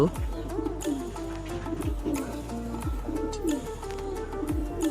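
Pigeons cooing at a rooftop loft, several low rolling coos repeating close by, with faint chirps in the background.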